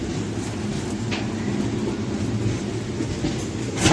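Train pulling into platform 4 at a Kerala station, a steady low rumble of wheels and carriages rolling in, loud and close, with no talk.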